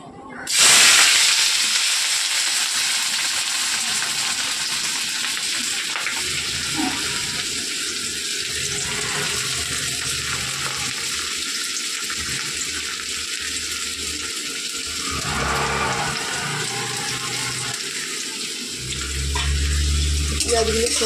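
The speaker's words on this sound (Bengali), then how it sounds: "পেঁয়াজগুলো সুন্দর করে ভেজে নেব" Chopped onions hit hot oil that just fried green chillies, flaring into a loud, crackling sizzle that settles into a steady, close frying hiss for the rest of the stretch.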